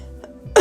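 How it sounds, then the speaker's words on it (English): A single short, sharp cough bursts out at the end after a quiet moment, close and fairly loud, from someone with an itchy throat. "I need to cough."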